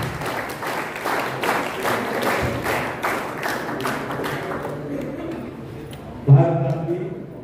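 An audience clapping in a hall during a talk on Jyotiba Phule, a steady ripple of many hands for about six seconds that fades, ending with a single loud thump.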